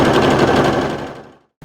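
Close and loud, a sewing machine sews a buttonhole on its own in a rapid, even stitching whir that slows and stops, then a faint click at the very end.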